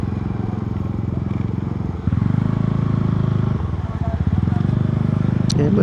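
The engine of a white J-Wagon gives a loud, close, low throbbing rumble that shifts pitch as it revs, with a short rattle near the end.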